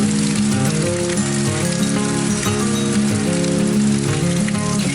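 Steady, loud rain pours down during a Badlands thunderstorm, a dense continuous hiss that never lets up, with sustained musical tones layered underneath.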